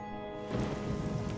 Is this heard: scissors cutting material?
no